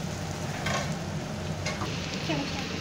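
Half boneless chicken sizzles in a pan with onion, a dense, even hiss and crackle close by with faint stirring scrapes and no voices.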